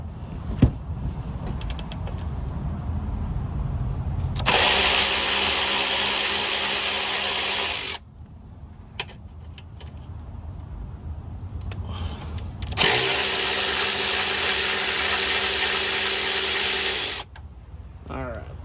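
A power tool loosens two 14mm subframe nuts on a Honda Accord 2.4L, in two loud sustained whirring bursts of several seconds each, with quieter workshop sounds between them.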